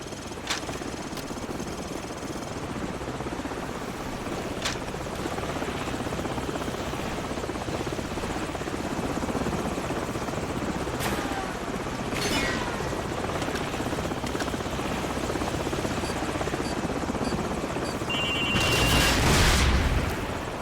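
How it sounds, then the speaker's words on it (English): A helicopter in the Call of Duty 4 campaign drones steadily with loud, continuous rotor noise throughout, and heavier booming bursts rise near the end. "So, grab a Stinger and take out that chopper."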